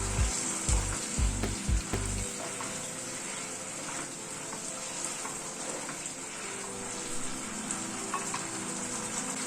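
Paneer simmering in curry gravy with tamarind pulp, a continuous hiss and bubbling throughout, with a few low knocks at the start, close and steady with no talk.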